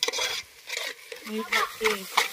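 Egg bhurji being stirred and fried in a pan, with soft scraping stirs and light sizzling in short bursts, close by.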